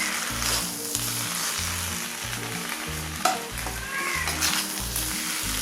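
Kerala beef roast (beef varattiyathu) with green chilli, fried coconut pieces and curry leaves sizzles steadily in a pan, while a utensil stirs it in regular, rhythmic scraping strokes close to the mic.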